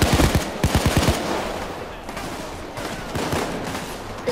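Rapid bursts of automatic gunfire from the video game Payday 2, a dense volley up front, then scattered shots and rattling fire continuing at a distance under the game's background noise.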